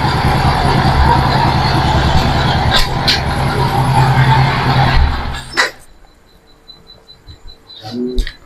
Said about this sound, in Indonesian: Pada saat dilepas persneling, jadi ada bunyi ketukan tambahan ya.